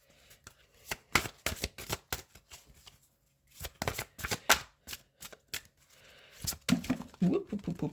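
Tarot cards being shuffled by hand in short riffling bursts separated by pauses, close and crisp, with faint soft handling sounds between the bursts.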